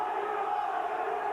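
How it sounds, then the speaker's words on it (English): A large football crowd roars at Burnden Park during a Bolton Wanderers v Swindon Town League Cup semi-final, a continuous distant swell of many voices. "Listen, the crowd now here at Burnden, they're going to lift the roof off"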